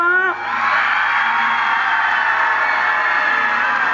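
A large live television audience of over thirty thousand people at a Chinese New Year special cheers and applauds in a loud, sustained roar that swells at the start and holds steady throughout.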